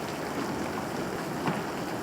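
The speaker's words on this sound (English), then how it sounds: "It's hailing." Hail falls outdoors as ice pellets hit the ground, a dense, even patter that continues without a break for the whole stretch, with no voices over it.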